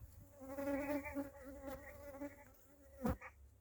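Honeybees buzzing close around a beehive in February, a droning hum that swells and fades as insects pass near, with a sharper nearby buzz toward the end.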